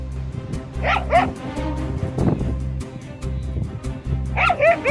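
A dog barks while fighting a snake, giving sharp yips and barks in uneven bursts at close range, with a low steady hum running underneath.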